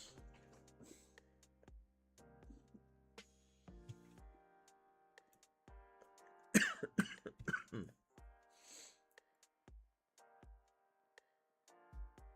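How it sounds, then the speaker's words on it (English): Someone blows their nose in one short, forceful burst with a few snorts after it, in a quiet room with faint ticking and soft tones in the background. "I had to blow my nose again"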